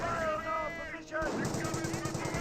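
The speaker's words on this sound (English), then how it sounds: "Fires a good shot there. Volks Grenadiers fires and missed the Patrick." Rifle fire in the World War II strategy game Company of Heroes: a rapid run of crackling shots, moderately loud, mixed with other battle sounds from the game.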